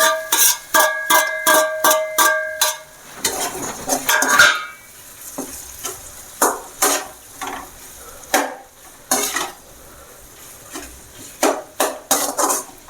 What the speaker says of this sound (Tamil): இப்போ நம்ம இந்த பொறிச்சு வச்சுருக்க இந்த முட்டையை அப்படியே அதில் போட்டுக்கலாம்